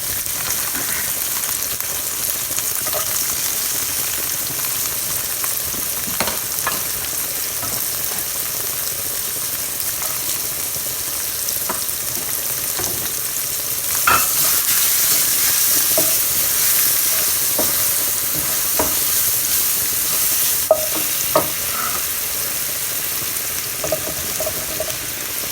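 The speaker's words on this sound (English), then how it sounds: "In the same pan, I have 2 large shallots that I minced up." Two large minced shallots sauté in a pan with a continuous close sizzle, punctuated by occasional scraping and stirring clicks throughout.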